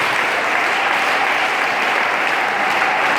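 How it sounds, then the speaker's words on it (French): A church congregation in Libreville applauds and cheers for the Lord Jesus during a full-gospel healing sermon, a dense, steady wash of clapping and crowd noise that holds at full strength throughout. "Je veux des acclamations au Seigneur Jésus"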